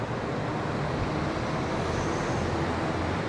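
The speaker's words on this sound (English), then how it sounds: "No, I think that was a bus." A bus passes outdoors near a residential spot half a mile from an airport, a continuous broad engine and road rumble that stays steady and fairly loud, with no voices.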